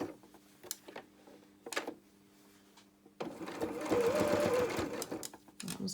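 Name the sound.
sewing machine stitching felt flower petals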